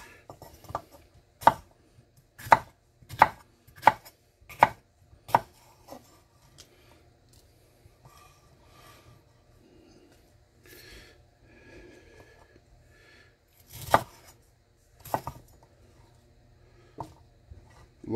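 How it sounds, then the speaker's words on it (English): A knife roughly slicing vegetables into rings on a cutting board for kimchi, with about a dozen sharp, evenly spaced chops up close, then quieter handling and a few more chops. "And what I think I'm gonna do, just give it a rough slice."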